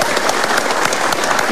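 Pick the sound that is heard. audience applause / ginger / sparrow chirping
audience applause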